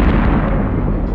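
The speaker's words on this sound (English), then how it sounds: "without warning, a major explosion occurs at an industrial facility" A major explosion at an industrial facility erupts as a loud, dense roar of broadband rumble that sustains for about a second, close and overwhelming, with no voices.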